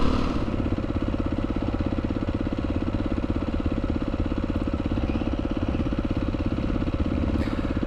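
A motorcycle riding an easy countryside trail on Salisbury Plain near Stonehenge, its engine a steady, continuous throbbing drone with a dense rapid pulse throughout, close and loud with no voices.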